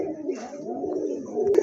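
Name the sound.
big racer pigeons cooing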